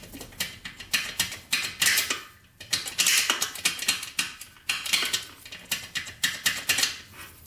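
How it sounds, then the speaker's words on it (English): Rapid mechanical clicks and clunks from a Suzuki RM125 dirt bike's gearbox as it is shifted through the gears, a close, dense rhythmic clatter with a brief pause partway through. "goes through the gears"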